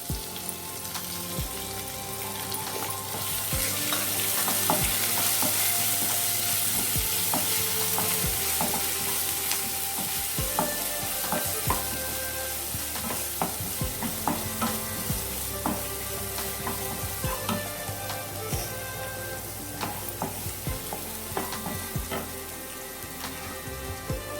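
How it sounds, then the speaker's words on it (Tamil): Onions, dried red chillies and curry leaves fry in oil for a Tamil ivy gourd poriyal, giving a steady close sizzle with frequent scraping stirs and utensil clicks throughout, no talking. "வெங்காயம் நல்லா வதங்கிடுச்சு"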